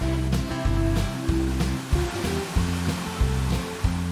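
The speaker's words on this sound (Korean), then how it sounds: "지금 이제 물소리 들리는 것만으로도 굉장히 시원한데" A mountain forest stream flows steadily along a forest trail on Jirisan, with a continuous rushing water sound and occasional louder splashes, heard alone at moderate level.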